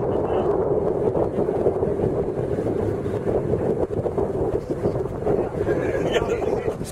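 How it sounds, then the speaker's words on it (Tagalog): Strong wind buffets the microphone in a steady, loud roar that lasts throughout, with people talking underneath. "Lumakas ang hangin eh."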